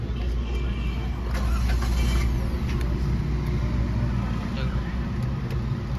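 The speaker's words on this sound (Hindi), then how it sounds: "गाड़ी पहले स्टार्ट करेंगे।" A Suzuki Alto VXR car engine is started and runs with a continuous, fairly loud, low mechanical rumble that stays steady throughout, with no clear speech.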